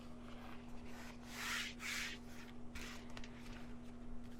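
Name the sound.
lightly rubbing a crease in pre-gessoed canvas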